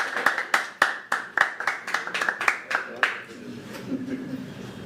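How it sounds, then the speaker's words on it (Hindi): A small live audience at a stand-up comedy show claps in a series of distinct, rhythmic hand claps that thin out and fade, with a voice speaking at the end. "तालियां उठाइए, इन्हीं तालियों के बीच बुलाते हैं हम निशांत भाई के लिए"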